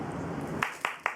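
A few sharp claps, about four quick bursts near the end, close and loud after a murmur of room sound, during a chip-tasting challenge game.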